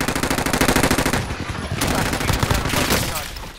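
Rapid automatic gunfire from the video game Call of Duty rattles in loud, dense bursts that run almost without a break through the whole stretch, with some shots sharper and more cracking than others.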